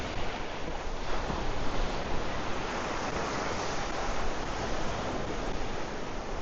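Ocean waves breaking on a beach at La Digue, Seychelles, a continuous soft roar of surf with gentle swells, mixed with wind buffeting the microphone, steady and alone with no talk.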